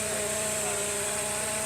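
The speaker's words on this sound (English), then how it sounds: "that's the sound of the supercharger" Steady, loud mechanical whine and roar from the supercharged engine of a VW Rabbit race car idling while warming up, a continuous high hiss over a constant low drone with no talk.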